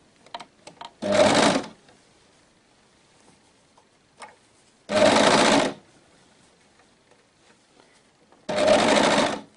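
An overlock serger sews sleeves onto a baby bodysuit, running in three separate bursts of steady, fast mechanical stitching, each lasting about a second with quiet pauses between.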